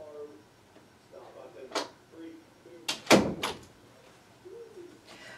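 A household door clunks shut with a couple of sharp knocks in a quiet room, mid-loud and close, with brief soft sounds around it and no speech over the impact.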